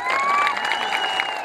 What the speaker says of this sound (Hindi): आप तो सब ताली बजा रहे हो।